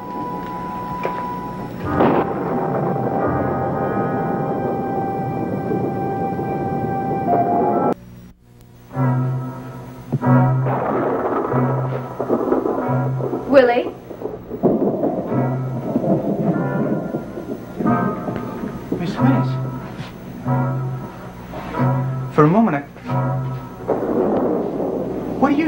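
Stormy weather with rolling thunder and steady rain, a continuous rumbling wash that builds and swells over the whole stretch, with brief louder cracks rising out of the dense roar.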